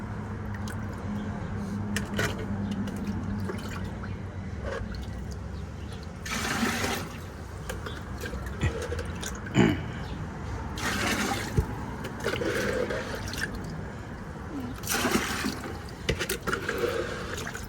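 Water being poured and saved rather than dumped, with sloshing, splashing bursts and dripping at irregular intervals over a steady background of running liquid, close and moderately quiet.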